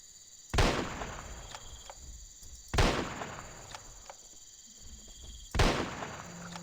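Three loud rifle shots from a hunting video game set in Jurassic Park, each a sharp blast with a lingering decay, spaced a couple of seconds apart over quiet ambient background.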